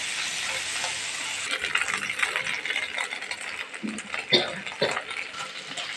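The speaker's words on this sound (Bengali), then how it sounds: "রসুন কুচি, আর দিয়ে দেবো কাঁচামরিচ কুচি। একসঙ্গে এগুলোকে আমি ভালো করে ভেজে নেব।" Minced garlic, green chilies and onion frying in a pan as a wide hiss, with irregular stirring scrapes and clatters growing louder in the second half.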